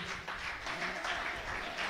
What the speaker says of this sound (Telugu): shall we all clap for తీట్ల Babu